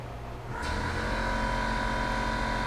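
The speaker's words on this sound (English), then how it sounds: "That noise is the compressor going off in the garage." An air compressor in a garage kicks on partway through, a steady mechanical roar that swells up and then holds, loud and continuous, with no talking.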